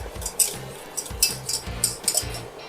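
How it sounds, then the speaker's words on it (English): A whisk clinking against a pot of milk with agar-agar, quick irregular metallic taps and scrapes in close succession, loud and alone. "Whisking continuously makes sure that the agar-agar doesn't settle to the bottom and burn."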